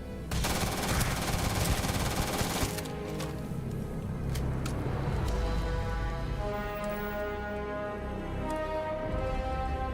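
Gunfire from a gun in Starfield rattles in rapid bursts, loud and close, with a dense automatic stream for the first few seconds followed by scattered shots over rumbling game sound.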